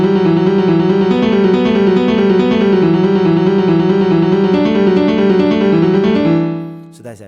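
FL Keys piano plugin in FL Studio plays a raw, unprocessed piano pattern of steady repeated chords and notes, close and continuous, fading out near the end.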